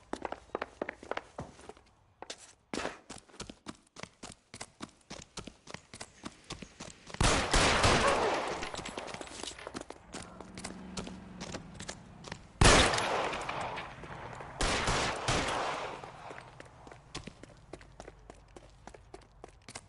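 Gunfire in a shootout in the video game LA Noire, rapid bursts of sharp shots in quick succession, with loud heavy volleys at intervals and scattered single cracks in between.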